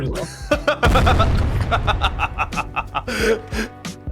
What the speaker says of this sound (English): we see here that a grenade did damage to the zombie before it actually exploded